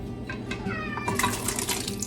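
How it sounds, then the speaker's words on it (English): A house cat meows for its dinner in a home kitchen, a few short close meows rising over faint running water and kitchen clatter. "My cat wants dinner, guys. This is how she tells me."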